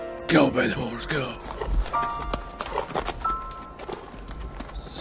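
Horse hooves clip-clop in a quick, irregular patter beneath a voice singing and speaking over the top, the clopping sharp but fairly light against the music.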